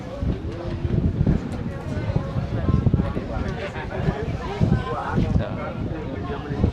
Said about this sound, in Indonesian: Sini enak nih, anginnya kencang.